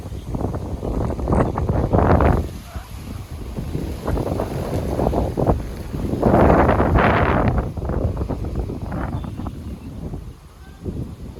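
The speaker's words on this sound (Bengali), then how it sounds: "বাতাস হইতেছে, অনেক ঝড়ি হইতেছে" Strong gusty wind ahead of an approaching storm buffets the microphone in loud surging waves, swelling and easing several times, with no talk heard.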